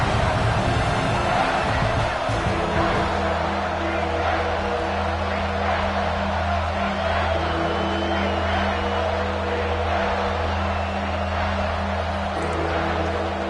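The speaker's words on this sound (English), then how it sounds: "And here comes the noise. This crowd is trying to inspire this defense and make a big red zone stop." Football stadium crowd roaring steadily to urge on the defense during a red zone stand, a broad sustained wall of noise with a low hum underneath, no clear peaks.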